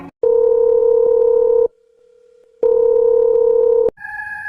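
Telephone call tone on a phone line: two long steady tone bursts separated by a quieter pause with a faint hum, then a brief different beeping tone at the end, loud and close with no talking.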